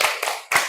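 Children in a classroom clapping a short rhythmic chant: two sharp clusters of hand claps, close and loud, separated by a brief pause.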